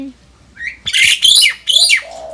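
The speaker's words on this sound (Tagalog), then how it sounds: "May uwak." Crow cawing close by, a couple of loud, harsh squawks following a short rising call, with a brief higher note trailing after.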